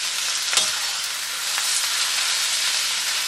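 Fresh cabbage, squeezed of water, frying and browning in a pan: a steady, even hiss of sizzling with a faint stir or two, close and alone throughout.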